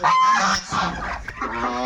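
Farm ducks call loudly with harsh, nasal honks in a short close burst, one call running into the next with no speech.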